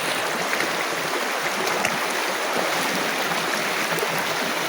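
A river stream rushes on a jungle trek toward the Curug Kutu waterfall, making a constant, dense, close-up wash of flowing water with no talking.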